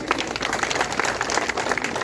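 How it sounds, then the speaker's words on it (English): Students at an exam ceremony applaud continuously, a dense, fairly loud wash of many hands clapping with no voices over it. "you deserve a round of applause for yourself."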